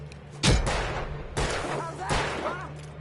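Gunfire in the video game Alan Wake rings out in three loud, booming shots spaced about a second apart, each trailing into a reverberant tail over a low ambient hum.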